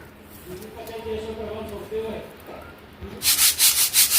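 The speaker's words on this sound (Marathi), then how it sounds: "अशा पद्धतीनं सगळी डाळ ही अशी चाळून घ्यायची आहे आणि स्वच्छ करून घ्यायची आहे" Pigeon pea lentils (toor dal) are sifted and cleaned in a sieve, and a voice talks first. Near the end, a quick run of rhythmic rasping shakes comes in loud and close.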